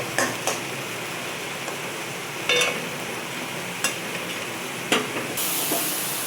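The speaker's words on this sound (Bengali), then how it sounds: "এই পেঁয়াজটাকে খুব সুন্দর করে কষতে হবে। অল্প অল্প করে নারকেলের দুধ দেবো আর পেঁয়াজটাকে করবো।" Onion is stirred and fried in coconut milk for Bengali-style prawn malaikari. A soft continuous sizzle runs underneath, broken by a few sharp clinks of a spoon against the pan, with no voices.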